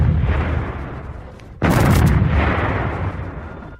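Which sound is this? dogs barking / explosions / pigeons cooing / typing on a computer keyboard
explosions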